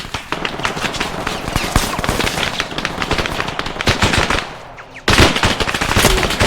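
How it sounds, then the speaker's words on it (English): Rapid machine gun fire from a tower in a military shooter video game, dense sustained bursts of loud cracking shots with a brief lull before the firing resumes. "That's an MG in that tower."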